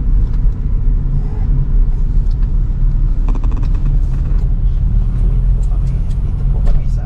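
Steady low road rumble fills a car cabin while driving, with faint rattles and clicks and people talking over it.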